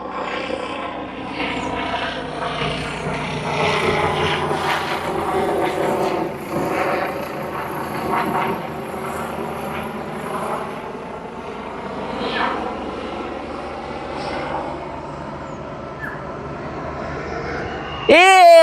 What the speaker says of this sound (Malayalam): നമ്മുടെ വീടിൻ്റെ വേണ്ടേ കൂടെ ഹെലികോപ്റ്റർ പോയേ